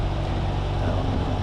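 A 2017 BMW R 1200 RT motorcycle rides along, a steady low engine drone mixed with wind rush, continuous and fairly loud over this brief moment.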